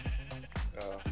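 Sheep bleating in a survival video game, three short wavering bleats in close succession, near and loud, with no talk over them.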